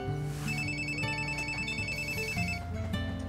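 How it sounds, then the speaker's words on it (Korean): A telephone rings with a melodic ringtone at night, a steady electronic tune playing continuously at moderate volume for several seconds with no voices over it. "신자씨 전화한 줄 알면서"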